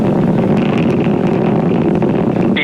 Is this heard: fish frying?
no